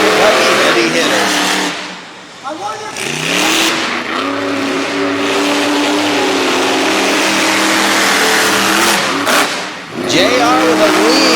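Monster truck engines at a Durham, Connecticut event race side by side, loud and sustained with rising revs and gear changes, dipping briefly before surging again, under a commentator's voice.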